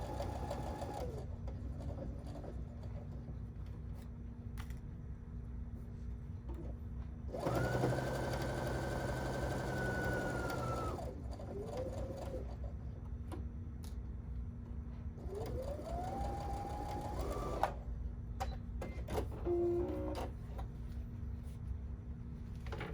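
A sewing machine stitches a bias-cut seam in short bursts, its motor whirring steadily for a few seconds at a time against a constant hum, with quiet pauses between runs.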